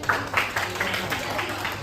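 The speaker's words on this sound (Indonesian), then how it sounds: "tepuk tangan untuk" Brief applause from a classroom audience for a presenting student group: a short burst of many hands clapping at fairly even strength, with faint voices murmuring underneath.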